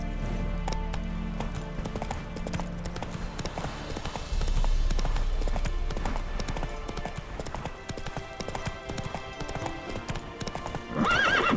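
Roach, Geralt's horse in The Witcher 3, gallops with steady, loud clip-clop hoofbeats throughout, with whinnies and neighs, game music and ambience beneath, and a voice speaking briefly.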